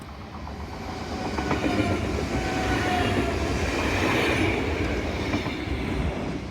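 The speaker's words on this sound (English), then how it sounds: "Another train." A French train near Saumur passes with a steady rumble and rolling wheel noise that swells and holds, with faint clattering over the rails and no voices.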